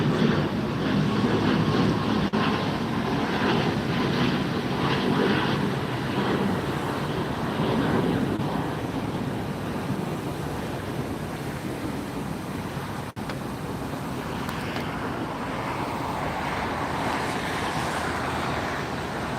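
An Air Canada airliner passes at LAX, a broad steady roar that swells and fades gradually at a distance, alone without voices.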